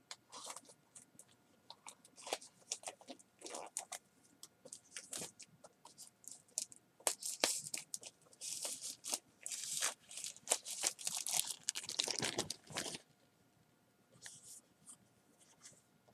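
Packaging of a Warrior X 3 flashlight being opened, with intermittent crinkling, tearing and scratchy rustles in quick bursts, heaviest toward the middle, then quieter handling at the end; no talking.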